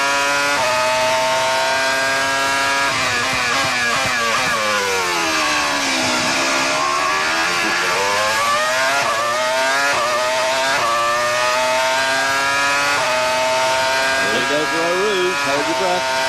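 Formula One car engine heard onboard with Fisichella at the 2001 Belgian Grand Prix at Spa, a loud continuous high-pitched scream sweeping up and down through gear changes, with a brief dip as the throttle eases, under commentary talk.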